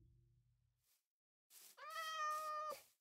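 A Minecraft cat gives a single clear, drawn-out meow after a brief quiet stretch, close and moderately loud, with no talk over it.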